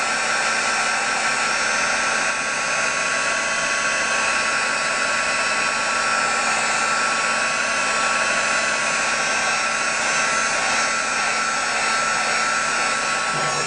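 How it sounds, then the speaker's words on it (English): Heat tool blows hot air for heat embossing in a craft project, a loud, steady, continuous fan whoosh with a constant whine, close to the listener and with no talking. "Just heat emboss it here."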